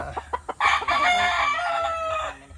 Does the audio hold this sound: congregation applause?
no